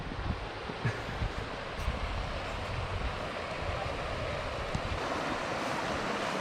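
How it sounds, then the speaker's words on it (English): Steady, broad rushing roar of the waterfall at Niagara Falls in New Zealand, continuous and moderately loud, with some wind buffeting the microphone. "Niagara Falls, New Zealand"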